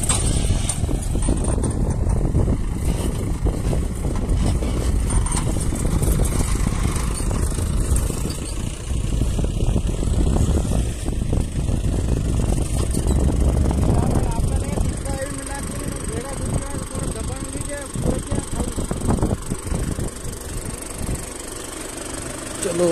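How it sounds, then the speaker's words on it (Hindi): A Mahindra 575 tractor with a cultivator runs in a farm field, its diesel engine chugging loudly and steadily throughout, with a rough low rumble that eases slightly in the later seconds. "गिर भी सकता है क्योंकि देखो ये है महिंद्रा 575"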